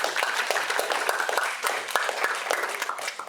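A crowd at a student union's annual members' meeting gives a moderate round of applause, a dense run of overlapping claps that holds steady throughout at a middling distance.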